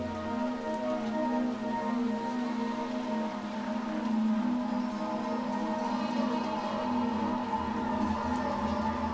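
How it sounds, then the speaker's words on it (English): Steady rain pattering on surfaces in the dark, cold night setting of The Doll Beneath video game, a continuous even wash with a low tonal drone beneath and no speech. "It's raining."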